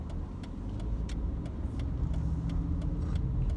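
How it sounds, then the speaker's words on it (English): Steady low road rumble from inside a car slowing and turning into a parking lot on the way to a pet store, with faint rattles and ticks over the droning engine and tyres, no talk. "now I'm pulling into the parking lot so it's safer"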